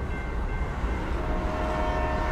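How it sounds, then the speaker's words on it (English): A train passes as a sound effect in an ASMR roleplay, giving a steady, loud rumble with a sustained horn-like tone throughout and no voices. "A train's coming."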